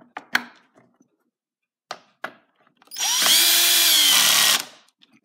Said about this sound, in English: We'll take the drill. Get those nice and tightened.